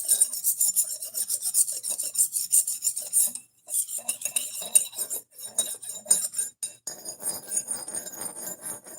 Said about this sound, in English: We got 64 people in here watching me sharpen this amazing knife